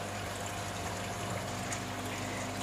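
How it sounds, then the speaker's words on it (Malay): A small 40-watt water pump in a recirculating fish farming system hums quietly and continuously, with faint bubbling and trickling water beneath a steady low drone. "Bunyi itu hanya bunyi pump saja"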